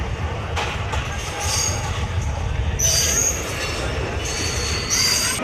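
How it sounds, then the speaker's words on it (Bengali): Malda Court local train pulling out of Naxalbari station, a loud continuous rolling rumble cut by repeated high metallic wheel squeals. "বন্ধুরা ট্রেন আমাদের ছেড়ে দিল নকশালবাড়ি রেলওয়ে স্টেশনে"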